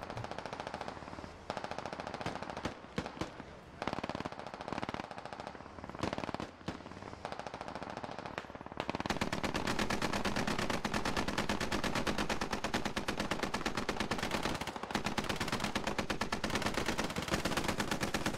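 Sustained automatic gunfire in the tactical shooter Squad, with several sporadic bursts at first, then a dense, continuous loud rattle of rapid shots filling the second half.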